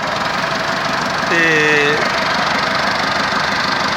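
A tractor engine runs with a continuous low, rumbling drone, loud and close, a brief tonal whine rising over it midway while someone talks.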